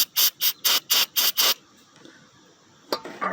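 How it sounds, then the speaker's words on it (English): Cleaner sprayed onto an AC compressor fitting: six quick, evenly spaced bursts of an aerosol can, each a sharp hiss, followed by quiet handling noise and a few small clicks. "let's spray some cleaner on there"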